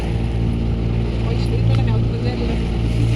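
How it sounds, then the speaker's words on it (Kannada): A motorboat carries riders across a lake in Ooty. Its engine drones steadily and loudly throughout, with splashing water and faint voices underneath. "ಇದು ಫಸ್ಟ್ ಟೈಮ್ ಬೋಟ್ ರೈಡ್ ನನಗೆ."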